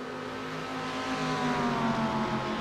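Simulated race-car engines from MX-5s and Mustangs in an iRacing sprint race at Phillip Island: a steady whining drone with rising pitch, fairly faint and continuous, no talk.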